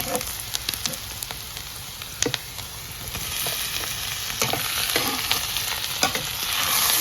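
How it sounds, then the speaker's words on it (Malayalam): Onions, tomato and green chili fry in a pan while being stirred for a Kerala-style chicken curry, a close, crackling sizzle broken by sharp scraping clicks of the spoon, with no voices. "നന്നായിട്ട് ഇളക്കി കൊടുക്കണം മല്ലത്തിന് കരിയില്ല"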